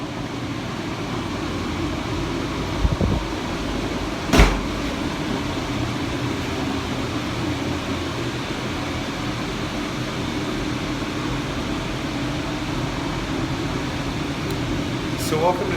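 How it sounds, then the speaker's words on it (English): Circulating exhaust fans of a Terracube downdraft HEPA-filtered grow cabinet hum with a steady, low mechanical whir, broken by a couple of brief knocks near the start. "circulating fans so that you can hear what the exhaust is like"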